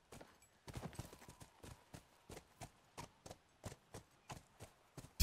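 Crisp, regular clip-clop of a horse's hooves in The Last of Us, a dozen or so evenly spaced hoof strikes at a brisk walk, close and clear with nothing else over them.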